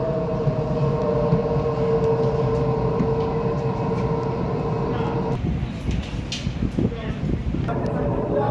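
Sydney train at Richmond railway station, a constant loud low rumble with a humming drone, heard from on board, roughening midway as the running noise shifts.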